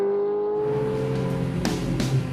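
A Ferrari 430 sports car accelerating hard, its engine note rising steadily and close, loud and sustained, with a faint squeal near the end.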